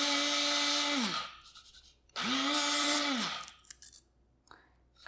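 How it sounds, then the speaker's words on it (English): A grinder pulses granular sweetener into confectioner's powder in two loud bursts of whirring motor, each spinning up and winding down, separated by brief quiet, with small rattles and clicks after the second pulse. "You can just add the granular to a grinder and pulse it up and it'll become a confectioner."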